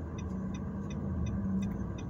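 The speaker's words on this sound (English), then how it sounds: "this guy almost got hit by a car crossing the street" A car rumbles steadily along a street nearby, with a low engine and road drone and faint regular ticking over a couple of seconds.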